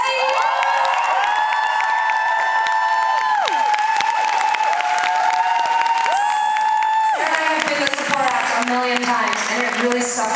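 Concert audience at the O2 Institute in Birmingham applauding and cheering loudly for a support act, a dense sustained roar of clapping and whoops with musical tones ringing over it throughout.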